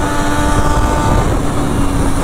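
A 2009 Triumph Daytona 675 motorcycle running on its original exhaust gives a steady, loud engine roar that stays close and even throughout, with no talk.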